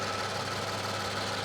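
A 2018 Infiniti Q50 twin turbo engine idling, a steady, even low hum with a faint mechanical rumble, close by and unchanging throughout, with no voices.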